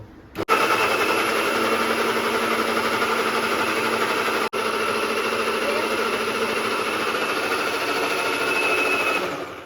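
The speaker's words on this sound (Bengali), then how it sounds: "অন করে দাও স্টার্ট করছি করো" An electric mixer grinder blending a mango shake roars loudly and steadily at close range for several seconds, with a brief dropout midway before the whine resumes.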